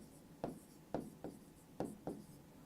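Chalk or marker strokes on a board during a physics lecture, five short scratchy taps and rubs spaced irregularly, close and moderately quiet with no talk over them.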